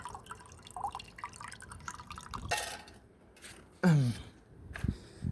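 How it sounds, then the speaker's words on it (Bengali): Water drips within a water service line system in Saudi Arabia: sparse, irregular drips and small splashes close by, mixed with a few louder sudden bursts. "পানি, এই সিস্টেমে পানি পড়ে"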